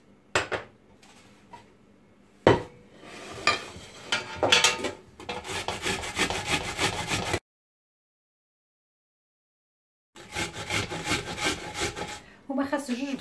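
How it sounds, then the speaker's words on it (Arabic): An onion grated by hand on a metal grater in a home kitchen, repeated rough rasping strokes in rhythmic bursts, close and clear, broken by a short silent pause. "دونك دابا غادي ندير البصله، خصني نحكها"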